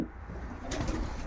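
Racing pigeons coo in a loft, a brief soft burst of cooing over a low, steady room murmur.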